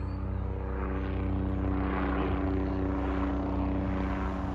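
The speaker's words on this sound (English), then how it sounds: "Oh, here comes a helicopter." A helicopter passes overhead above a September garden, its steady rotor and engine drone holding loud and constant with a low throbbing hum throughout, no voices heard.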